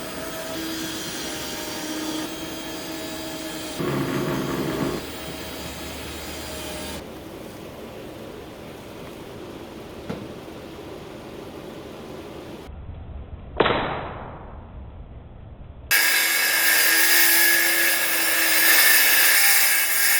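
Screwing a plywood floor down to a teardrop camper frame: a cordless drill whines and buzzes in several separate runs, close and loud, with short rising motor sweeps between bursts.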